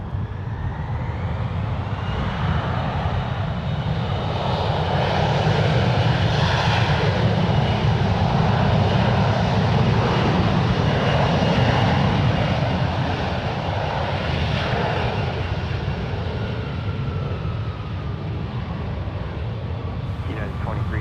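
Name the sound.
United Boeing 737-800 airliner departing, taking off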